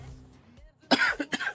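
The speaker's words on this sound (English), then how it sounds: "I'm coughing." A man coughs several times in quick succession, close and fairly loud, after a stretch of quiet background sound.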